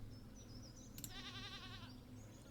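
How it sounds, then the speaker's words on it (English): A single wavering goat bleat in Stardew Valley, quiet and lasting about a second, sitting over low background game music. "I just need a goat."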